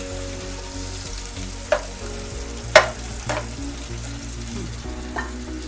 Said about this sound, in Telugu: ఇది అంతవరకు ఫ్రై అవుతుంది టమాటా.